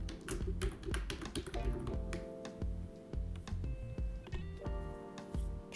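A computer keyboard clatters with quick, irregular keystrokes during a computer lesson for senior learners, close and clear, joined by sustained tonal sounds underneath and no talk.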